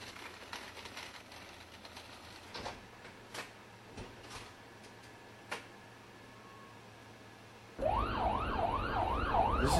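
An ambulance siren is heard from inside the vehicle. After a quiet stretch with a few faint clicks and knocks, a loud rising-and-falling wail starts abruptly near the end and keeps cycling.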